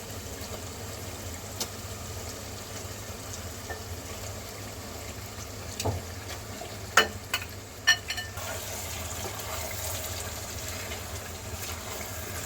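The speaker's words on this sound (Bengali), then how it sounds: "মশলা ভালোভাবে কষানো হয়ে গিয়েছে। দিয়ে দিচ্ছি চিকেনের পিসগুলি।" Chicken pieces hit spiced, well-cooked masala in a pan for bhuna khichuri, giving a soft continuous sizzle with a few sharper clinks and spatters midway.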